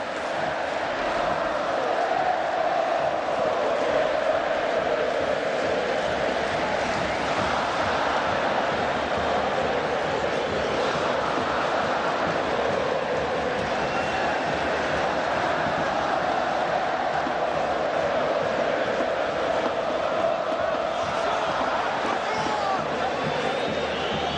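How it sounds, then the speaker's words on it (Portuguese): Grêmio football supporters in a stadium sing the club anthem together, a dense, steady roar of massed voices sustained loudly throughout without pause. "você vai ouvir o hino agora cantado pela torcida, com a emoção da torcida do Grêmio."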